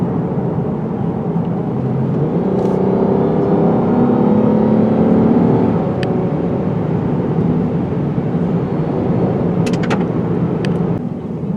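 A 2020 Lexus IS 350 takes tight curves, its engine humming and rising in pitch as it revs through the bends, steady and close inside the cabin with road noise beneath.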